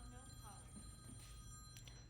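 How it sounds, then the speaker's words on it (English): A telephone rings quietly with a repeating electronic tone, faint and low in level, with some background sound underneath. "I get so many scam phone calls."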